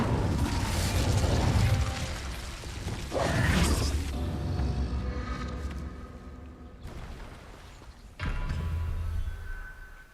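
An Incendio fire spell cast in Hogwarts Legacy: a loud roaring burst of flame, a second whooshing blast, a fading rumble, then another fiery surge near the end.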